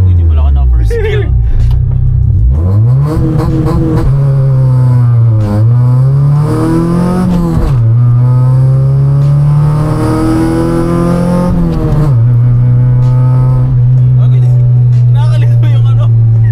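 Car engine on a dyno revving hard through the gears, loud and close, with rising and falling pitch sweeps and brief drops between shifts, a smell of hot clutch and rubber in the air; voices talk over it throughout.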